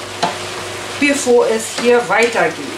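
Ingredients for a Chinese noodle stir-fry sizzle steadily in a pan, a continuous close frying hiss with a person talking over it.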